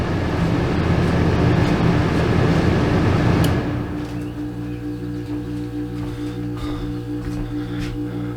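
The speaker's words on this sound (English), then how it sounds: "Something's still running. Sounds like the compressor." An old RV air conditioner's compressor keeps running after the thermostat is switched off, a loud, steady mechanical rumble with a tonal hum that drops to a quieter but continuous drone partway through.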